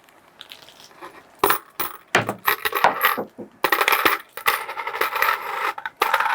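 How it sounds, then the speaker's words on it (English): Coins drop one after another onto a small cardboard bridge from an engineering kit, giving sharp metallic clinks and jingles in close, irregular bursts that sometimes overlap. "And now let's test some coins."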